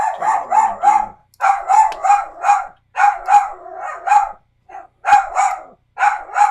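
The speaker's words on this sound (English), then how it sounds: "there's my doggy. That's Astro Dog" A pet dog called Astro barks in loud, close bursts of three or four yaps, pausing briefly between each burst and sometimes giving a single short bark, with no other sound around it.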